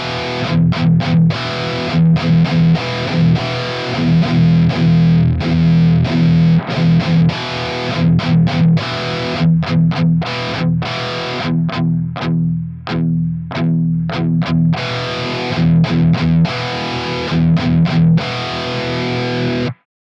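A heavily distorted electric guitar through a high-gain amp channel chugs out palm-muted riffs with abrupt stops, loud and close, with no talk.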